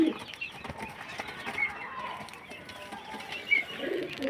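Pigeons, including a ring-tagged hen, coo softly at a pigeon seller's in Beldanga amid steady background noise, with a brief flutter-like burst near the end.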